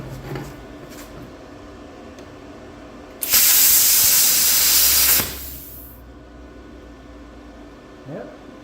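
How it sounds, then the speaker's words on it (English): Vevor plasma cutter slicing a piece of aluminum: a loud, sustained broadband hiss bursts in abruptly, holds for about two seconds, then cuts off, with quiet shop ambience before and after. "All right, I have a random piece of aluminum here."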